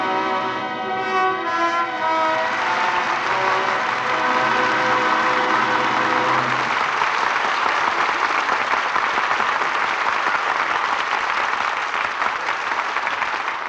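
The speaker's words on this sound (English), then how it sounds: "Well-deserved applause for an exciting performance by our two stars, Alan Ladd and Veronica Lake." A radio theatre studio audience breaks into sustained applause after a dramatic performance, rising out of a closing musical chord and continuing as a dense, even wash of clapping.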